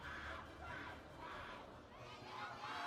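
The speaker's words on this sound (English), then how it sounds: "Those Crazy Raccoon fan chants need to get a little bit louder" Crazy Raccoon fans chant in a crowd at an esports tournament, a steady rhythmic roar of many voices swelling and falling, somewhat distant and muffled.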